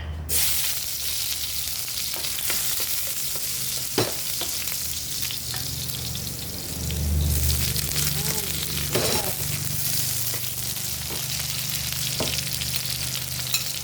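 Beef ginisa sautéing in a pan, a steady close sizzle and hiss with occasional clinks and scrapes of stirring running throughout.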